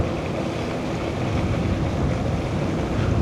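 A strong wind blows at the coast near a lighthouse in Dingalan, Aurora. It makes a loud, continuous roar and rumble against the microphone with surf-like noise and no voices.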